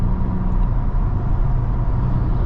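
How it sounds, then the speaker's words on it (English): Steady low road rumble inside a moving 2022 Nissan Maxima with a 3.5-litre V6 and acoustic windows, with trucks passing outside muffled into a continuous broadband drone, even and unbroken throughout. "I could hear a little bit of the trucks that are passing by."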